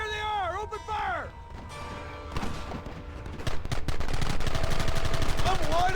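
Gunfire in the Wild West video game Red Dead Redemption, a rapid, dense volley of shots building into continuous firing, loud and close, with a brief whooshing game effect and speech at the start.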